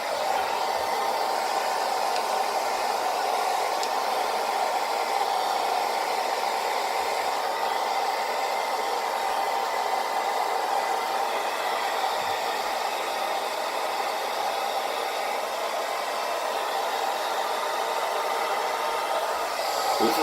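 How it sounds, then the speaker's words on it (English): A hair dryer on low speed, medium heat blows steadily at close range while drying a beard, a constant airy whoosh with a low motor hum that never changes for the full duration. "I'm going to comb it through with a hair dryer"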